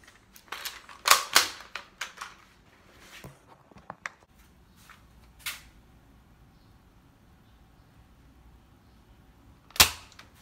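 Toy gun firing off a rapid cluster of sharp, snappy pops in the first few seconds, followed by quieter scattered clicks and one last loud crack near the end, all close to the microphone with no talking.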